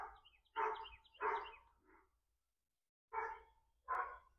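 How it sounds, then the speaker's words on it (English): A neighbor's dog, sounding big, barks a few times nearby: a quick run of three or four deep woofs, a pause, then two more barks, with no talk over them. "Don't know if you hear that dog barking."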